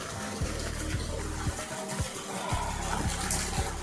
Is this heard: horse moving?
no